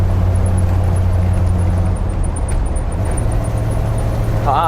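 Interior of a ramp truck with a 460 V8 and ZF5 manual gearbox: a loud, steady low engine drone and road roar, the pitch shifting partway through as it downshifts, with a brief squeal near the end.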